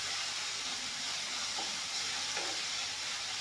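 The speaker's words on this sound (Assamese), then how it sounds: "বেছি মৰমৰীয়াকৈ নাভাজোঁ, অলপমান টাইম ভাজি ল'ম।" Bitter gourd fries in oil in a pan, a steady, close sizzling hiss running throughout with slight stirring noises and no talking.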